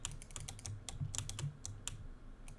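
Clicky computer keyboard typed in short bursts of crisp, quick keystrokes with brief pauses between, close and fairly quiet against a low background hum.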